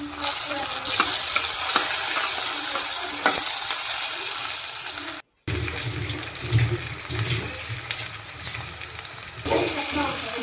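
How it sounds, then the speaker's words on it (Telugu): Ginger garlic paste for aloo kurma frying in hot oil gives a dense, continuous sizzle, stirred with scraping strokes, with a short dropout midway and a heavier, bubbling stretch after it. "ఇప్పుడు కొద్దిగా అల్లం వెల్లుల్లి పేస్ట్ వేసి పచ్చివాసన పోయే వరకు వేయించాలి"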